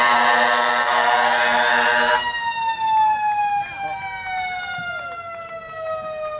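Fire engine siren from Brimfield Fire Department engine 2 in a July 4th parade, loud and close, a blaring tone that cuts off into a long descending wail winding down over several seconds.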